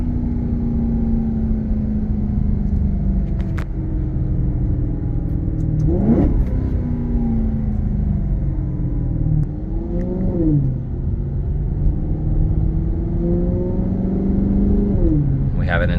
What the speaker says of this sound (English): The car sounds amazing. These sound so good.